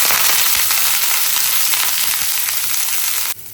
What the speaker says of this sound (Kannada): ಅದೇ ಎಣ್ಣೆಗೆ ನಾನಿವಾಗ ಗೋಬಿನ ಹಾಕಿ ಫ್ರೈ ಮಾಡ್ಕೊಂಡ್ಬಿಡ್ತೀನಿ